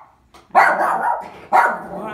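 A dog lets out two loud, close barks about a second apart, each a harsh drawn-out woof that fades into a rough tail.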